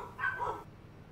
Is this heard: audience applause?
no